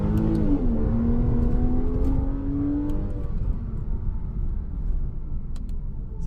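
A Porsche Cayman floored in first gear from around 3,000 rpm, a loud close engine roar with a climbing pitch over the first three seconds, then a sustained rumble as it keeps driving.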